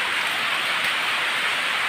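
Heavy rain pours down steadily in a broadband hiss, loud and close, with no break or voices, during a cold downpour at a rabbit enclosure.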